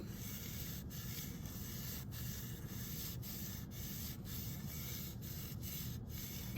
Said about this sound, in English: So now let's go ahead and take our cotton swab, and we are just going to rub it